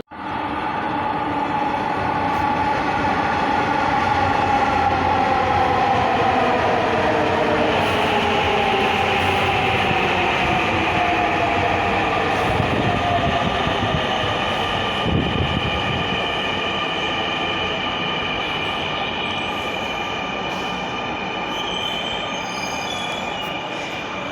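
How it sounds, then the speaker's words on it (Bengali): A metro train rolls into Shewrapara station with a loud sustained rumble and high squealing wheels whose pitch slides as it slows, continuous with no voices. "মেট্রো রেল চলে আসছে"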